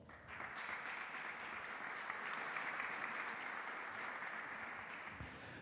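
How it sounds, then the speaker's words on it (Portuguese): An audience at a conference panel on financial regulation and fraud prevention applauds steadily, a soft, even and rather distant patter of many hands clapping for several seconds before easing off. "E será moderado por Cristiano Coelho, para quem eu peço uma salva de palmas."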